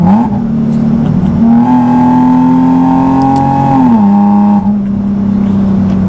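Supercharged Nissan 370Z with a manual gearbox, around 400 wheel horsepower, pulling hard under acceleration with a loud, steady exhaust drone that climbs in pitch, then drops sharply near the end as it shifts and keeps pulling.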